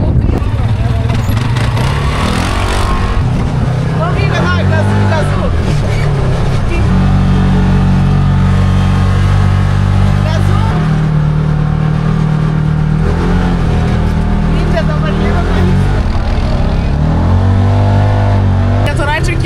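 Quad bike engines rev and accelerate through a snowy lakeside ride in Georgia, loud and close with shifting pitch, while people talk over the engine noise.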